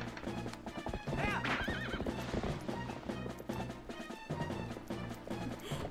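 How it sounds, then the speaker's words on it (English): In the Zelda game Twilight Princess, a horse gallops with quick rhythmic clip-clop hoofbeats and gives a loud whinny partway through, set against busy game music and effects. "Get on the horse."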